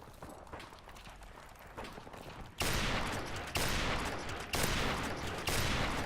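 R700 sniper rifle gunfire in the video game Modern Warfare Remastered, a few loud sharp reports spaced about a second apart after quieter footsteps and game ambience.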